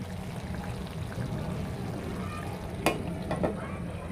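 Malabar spinach greens being stirred into a pan with a fish head, a steady close frying sizzle with a few scraping clatters of the spoon near the end.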